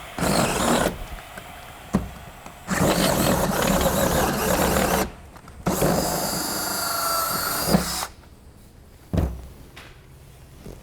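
Power drill boring a hole with a hole saw or step bit during a Gas Monkey Garage build: several loud sustained runs, each a few seconds long, stopping and restarting with short quiet gaps between them.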